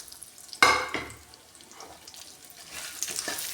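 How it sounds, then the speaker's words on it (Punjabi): Dry fruit tipped into a hot pan gives a sharp burst of sizzling and stirring, then softer frying crackle that swells again toward the end, close by with no talk. "ਸੇਮ ਪੈਨ ਦੇ ਵਿੱਚ ਪਾਵਾਂਗੇ ਅਸੀਂ ਕਿਉਂ ਕਿ ਉਹ ਗਰਮ ਹੋ ਗਿਆ ਤੇ ਇਹਦੇ 'ਚ ਪਾ ਦਾਂਗੇ ਅਸੀਂ ਡਰਾਈ ਫਰੂਟ"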